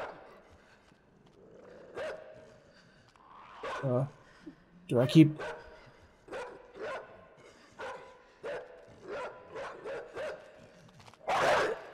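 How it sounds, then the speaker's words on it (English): A zombie dog barks in a horror video game, a series of sharp scattered barks and yelps of varying loudness, with a person talking briefly in between. "Oh shit, I hear a dog."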